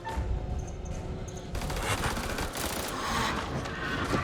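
Gunshot in the horror game The Dark Pictures: House of Ashes, a sharp report that breaks into a dense, noisy game soundscape of rumbling ambience and continuous scraping texture.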